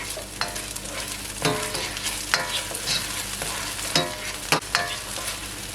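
Garlic and tomato frying in a pan while being stirred, with a steady sizzle and intermittent sharp scraping and clinking strokes of the utensil, close and fairly loud, no voices.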